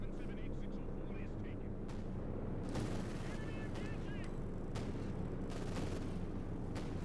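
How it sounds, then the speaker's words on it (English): Cluster bomb artillery strike in Company of Heroes 2, a dense run of sharp explosive cracks and bursts over a constant low rumble of battle, with a few whistling tones now and then and a voice talking underneath. "There we go. Cluster bombs again."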